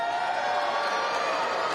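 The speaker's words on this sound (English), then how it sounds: "Crowd coming alive." A large arena crowd at a live wrestling show in Belfast roars and cheers steadily, a dense continuous wall of voices with no breaks.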